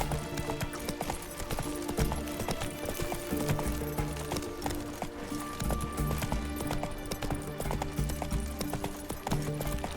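Roach the horse gallops in The Witcher 3, steady rhythmic clip-clop of hooves close and loud, with game music and ambient sound beneath.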